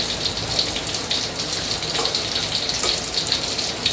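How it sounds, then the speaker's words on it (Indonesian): Rice boiling in a pot, a steady bubbling, hissing boil, close and continuous, with small pops scattered through it and no voices. "Ini nasinya udah mulai mendidih ya guys."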